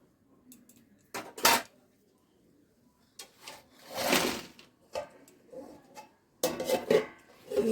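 A lid is set on a pan of mixed vegetable curry, giving a few short metallic clatters and scrapes with pauses between, close and fairly loud, with no talk.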